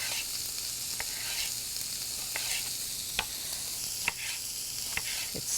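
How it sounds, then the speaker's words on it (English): Zucchini sautéing in a pan ahead of stuffing, giving a soft continuous sizzle with occasional light clicks of stirring, fairly quiet and with no talk. "make it saute a little bit for easier stuffing"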